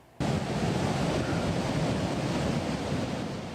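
Loud, steady rushing floodwater roars continuously from close by in Sicamous Creek during a flash flood, a dense broadband torrent that starts abruptly and barely changes.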